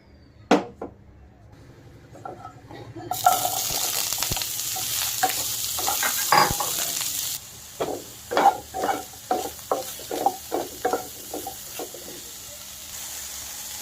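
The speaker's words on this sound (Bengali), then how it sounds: "নুন হলুদ দিয়ে বেগুন ভেজে নেব।" Eggplant fries with salt and turmeric, first as a loud, continuous hiss of sizzling oil, then as a series of rhythmic stirring scrapes against the pan, all close and clear.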